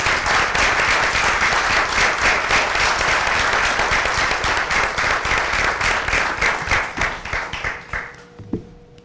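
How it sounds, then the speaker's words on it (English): Audience at a Brockton school committee meeting gives a sustained round of applause, dense steady clapping from many people filling the room, thinning out and fading with a few last claps near the end. "please give him a round of applause"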